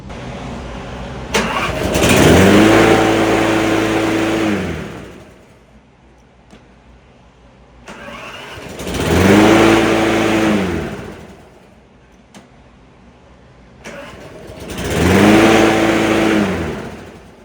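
A Snapper AWD push mower engine cranks over three times with an electric starter powered by a car battery, each attempt whirring up for a few seconds before dying back, loud and close.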